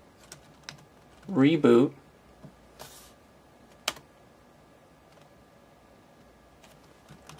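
Keys on a Mac computer keyboard click a few times, sparse and fairly close, in an otherwise quiet room, with one short spoken word partway through.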